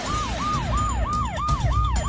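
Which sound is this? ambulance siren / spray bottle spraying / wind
ambulance siren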